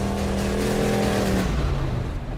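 An old Jaguar car engine cranks and catches, a loud close rumbling roar that rises and then settles into a rough idle.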